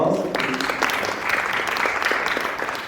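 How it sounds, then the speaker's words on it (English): Audience applause for a panelist, the CEO of the KMA, being introduced at a healthcare workforce panel; a brief, steady burst of clapping with light voices underneath. "Please give a round of applause."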